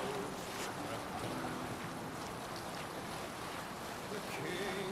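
Viking longship under sail in Assassin's Creed Valhalla, a steady wash of water and wind rushing past the hull, continuous and fairly loud throughout with no break.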